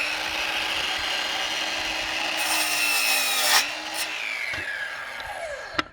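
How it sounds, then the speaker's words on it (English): A DeWalt 7-1/4-inch 20V cordless sliding compound miter saw runs steadily and loudly while its blade grinds slowly through hardwood. The motor pitch sags partway through, then the cut finishes with a brief clack as the saw spins down. "So you want to ease into the cut on really hard wood."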